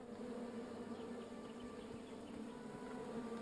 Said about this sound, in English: Bees! I ruined the bees' day and that lovely meal.